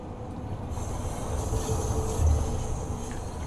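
A London Underground train in Train Sim World 2 rolls fast through a station near Edgware Road and Paddington, giving a continuous low rumble of wheels and carriages that swells slightly as it passes.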